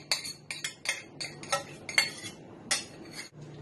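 Utensil scooping and scraping through a mushy vegan broth mixture in a bowl, a run of close, sharp clinks and scrapes at an uneven rhythm, alone without talk.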